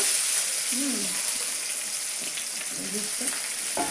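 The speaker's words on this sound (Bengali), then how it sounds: "একদিকে মাছ ভাজা হচ্ছে" Rohu fish fries in hot oil, giving a steady close sizzle and hiss with a few brief faint vocal sounds in the background.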